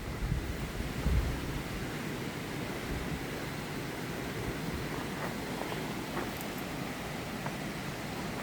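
Twin waterfalls in the Darband mountains rush with a steady, dense roar of falling water, broad and continuous, mixed with some wind buffeting the microphone.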